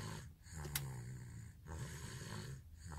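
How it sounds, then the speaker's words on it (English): A person sleeping hard snores steadily, with two or three slow, low rumbling breaths across a few seconds, heard close against faint background noise. "she is sleeping so hard she's snoring."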